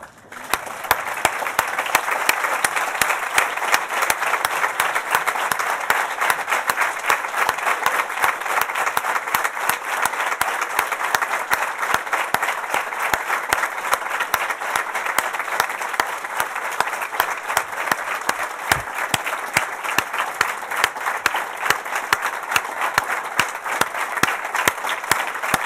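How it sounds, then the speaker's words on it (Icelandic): A standing audience at a political party council meeting claps steadily and loudly for a long stretch, a dense, even wash of applause with no talk over it. "Öllu þessu fólki ætla ég að biðja ykkur að standa upp og klappa fyrir og þau sitja á meðan."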